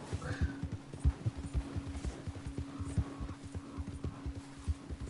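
Horse hooves clip-clop in a steady, fairly quick rhythm in the Red Dead Online video game, moderately close, with a low steady hum running beneath and no talking.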